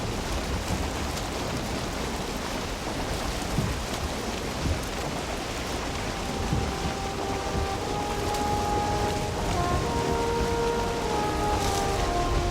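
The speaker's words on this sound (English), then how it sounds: "And it's raining again." Rain falls in the video game Valheim during a sea voyage, a steady broadband hiss of downpour with faint tonal game music drifting in later, continuous and even throughout.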